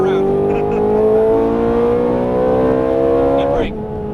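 A Ferrari 430 Scuderia revs hard on a racetrack, the engine's loud, steady note climbing in pitch as the car accelerates, then cutting off abruptly as the driver lifts, with an instructor's voice talking over it.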